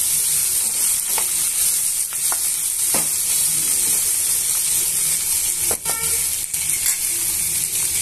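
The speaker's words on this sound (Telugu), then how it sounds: "ఇప్పుడు ఇవన్నీ కూడా వేగనివ్వాలండి. ఒక 2 నుంచి 3 నిమిషాలు బాగా వేయించేసుకోవాలి." Onions and green chillies frying in a pan for Mysore masala dosa give a steady, loud sizzle, with a few sharp clicks of stirring. No one speaks.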